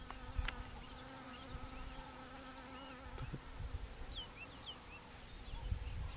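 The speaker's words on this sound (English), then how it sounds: "quite a numerous amount of bees with quite large amounts of pollen on their legs" Steady insect buzzing fills the air, a low continuous drone of several bees around flowering plants close by, with faint birdsong chirps in the background, in the South African bush.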